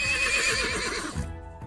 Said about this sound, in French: il est accompagné de son courageux cheval